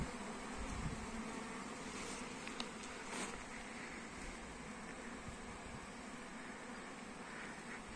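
Swarm of honey bees buzzing steadily at a crowded hive entrance fitted with pollen traps, a dense continuous hum that stays even and fairly quiet throughout with no talking.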